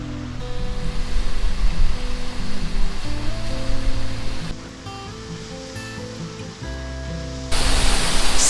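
Steady broadband rush of the waterfall at Frenchman Coulee, loud and close on the hike up, with low tonal hum layered underneath and a brighter surge of water noise near the end.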